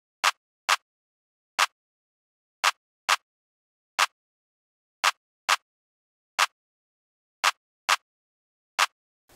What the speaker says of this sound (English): I played this clap pattern that's very reminiscent of that kind of Afro dancehall kind of clap pattern